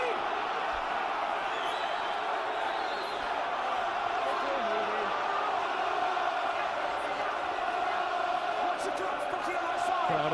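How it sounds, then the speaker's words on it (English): Crowd at a Gloucester versus London Irish rugby match, with a steady roar of cheering and shouts from a large stadium audience continuing throughout, far and dense, with a commentator's voice mixed in. "Crowd enjoying this."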